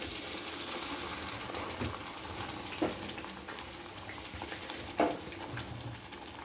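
Steady oily sizzling and spitting of thick curry leaf paste frying in oil in a pan on low heat, with occasional louder scrapes of a spoon stirring.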